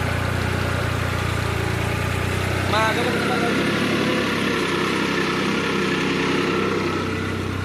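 A New Holland tractor engine idles in a steady, low rumble throughout, with a brief squeal partway through.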